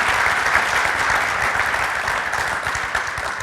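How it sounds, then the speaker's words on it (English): Sustained applause from a panel discussion audience, dense and steady clapping filling the whole stretch at a strong level before easing slightly toward the end. "How about a round of applause"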